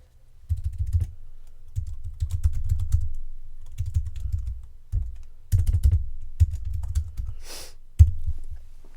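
Typing on a New Trent IMP38B Airbender keyboard case: steady runs of soft, close key clicks in bursts with brief pauses, fairly loud and with no talking.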